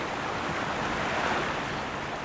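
Rushing river rapids, a steady, loud wash of churning water with wind noise buffeting the microphone, no voices.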